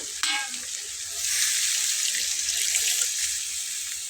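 Water is poured into a pan of small-fish curry that has been fried down until it catches on the sides, setting off a loud, steady sizzle and bubbling that swells after the first second and carries on alone.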